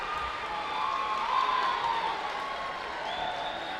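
A basketball crowd at a Hawks vs Hardin game claps and cheers in a sustained roar with whistles and whoops, steady and moderately loud throughout.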